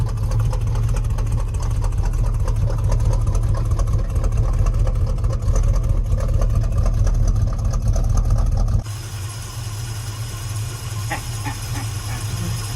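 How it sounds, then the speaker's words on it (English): A 1962 Chevrolet pickup truck engine idles steadily after sitting for 20 years, a loud, continuous low rumble close by that drops slightly in level partway through and keeps running to the end. "Idling after 20 years"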